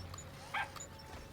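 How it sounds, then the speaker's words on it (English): A robot dog from the game Evil Genius 2 gives a single short, bright synthetic bark, fairly close, over a low steady game background hum. "Now you will be interrogated by a robot doggo."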